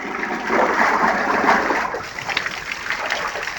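Water mixed with glucolyte rehydration salts is poured out for a cow just brought from a cattle market, a loud splashing gush that trickles and spatters as it thins, with no voices.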